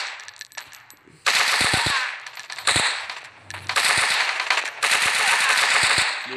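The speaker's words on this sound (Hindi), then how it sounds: "तो बहुत ज़्यादा ही फायरिंग हो गई, अब तो बहुत ज़्यादा ही हो गया है।" Rapid automatic gunfire in the shooter video game Covar Strike crackles in long, sharp bursts with brief pauses between them, loud and close.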